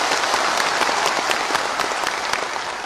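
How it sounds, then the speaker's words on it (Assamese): An audience at a gathering claps in warm, sustained applause, dense and steady throughout with many overlapping hands, loud and fairly close, with only a faint murmur of voices underneath. "এটা বিশাল হাত চাপৰি মাৰিবলৈ অনুৰোধ কৰিছোঁ"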